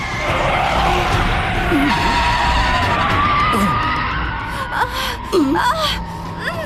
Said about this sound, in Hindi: गाड़ी रोको जल्दी से।